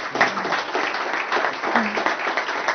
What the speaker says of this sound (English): I'd like to give these speakers a nice round of applause.